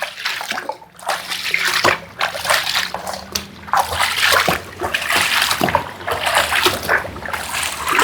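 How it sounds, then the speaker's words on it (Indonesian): Water stirred and sloshed in a tank during a flower-bath ritual for a vehicle, continuous close splashing and swirling with uneven surges, no talking. "Terus diaduk dulu sekitar sampai dengan 3 menit."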